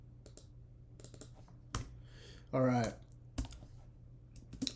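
Typing on a computer keyboard comes in short bursts of quick clicks with pauses between, close and fairly quiet, and a person briefly speaks partway through.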